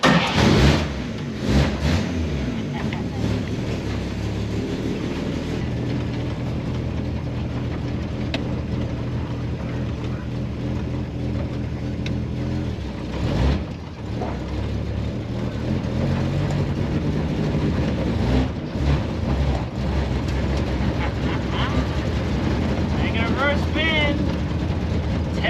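A 1954 Chevy hot rod on its first drive, its engine rumbling steadily and loudly close by for the whole stretch, with brief bumps and knocks. Voices talk faintly under the engine.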